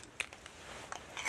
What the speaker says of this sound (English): They have a very light and crunchy texture.